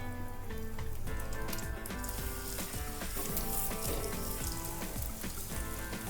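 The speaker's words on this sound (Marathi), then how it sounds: "तेल तापलेलं आहे तर आपण एक छोटा बागडा त्याच्यामध्ये टाकूया" Bangda mackerel fries in hot oil with a loud, steady sizzle and crackle, close and continuous throughout.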